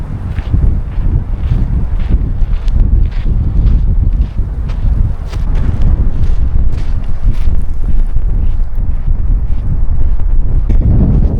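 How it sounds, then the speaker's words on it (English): Strong gusting wind roars continuously, buffeting loudly and close throughout with no pauses. "windy day on this little bay today"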